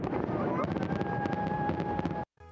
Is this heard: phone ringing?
no